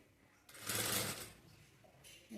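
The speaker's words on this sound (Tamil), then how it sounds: "இப்போ நெக்கு ஓரத்தில் தையல் போட்டாச்சு" A sewing machine runs a short stitching burst along the neck edge of a halter neck blouse, whirring up loudly for about a second and then easing back to a quiet background hum.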